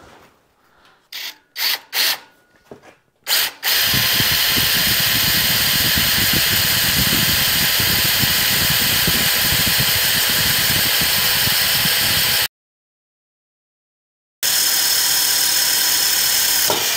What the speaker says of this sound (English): this will bore through that steel and drill me a 3/4 inch hole